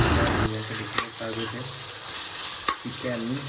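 Chicken and potatoes fry in a pan with loud, continuous sizzling and a few sharp stirring clatters, while a voice speaks over the cooking.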